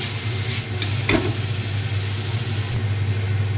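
Tomatoes sautéing in a pan for ampalaya with egg, a steady sizzle with stirring scrapes and a brief louder clatter near the middle, continuous and close, with no talking.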